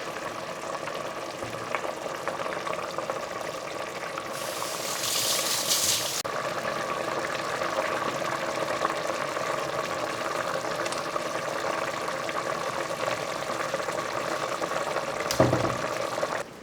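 Fresh tomatoes and onions cook in a pan as a marinara sauce, giving a steady close sizzle and gentle bubbling, with a brief louder hiss partway through and a stir or clatter near the end.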